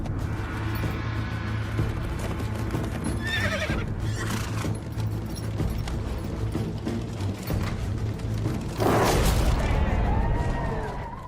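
Horses whinny loudly twice over a background of clattering hooves and mechanical creaks, in a jousting scene tied to Henry VIII at Hampton Court Palace; a faint voice sits underneath.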